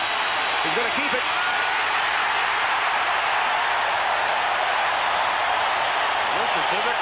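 A big crowd at a 1986 Seattle Seahawks versus Pittsburgh Steelers NFL football game roars steadily and loudly in the stadium, one continuous swell of noise with a voice faintly in the background.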